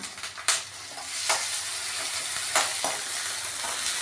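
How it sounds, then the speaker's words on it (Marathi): Tomato and peas sautéing in a pan for vangyache bharit give a steady close sizzle, with a few sharp stirring scrapes against the pan and no talk. "हे सगळं छान परतून घ्यायचे"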